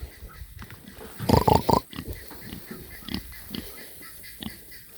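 Pigs grunt and snort close by, with a loud cluster of rough grunts in the middle followed by softer scattered snorts and snuffles on a farm.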